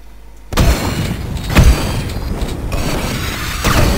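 A rocket explosion in the shooter game Duke Nukem 3D: a loud, sharp boom in the middle over a busy, continuous bed of game noise, with smaller bursts before and after.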